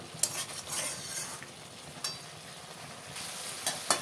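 Mutton being stir-fried into kosha in a pan: a low frying sizzle broken by several sharp scrapes and clacks of a spatula against the metal at irregular intervals, close and with no talk.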